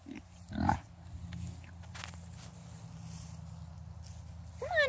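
Pigs walking in a line on a homestead hike give a couple of soft grunts early on over low, steady outdoor background noise, with a brief bright chirp near the end.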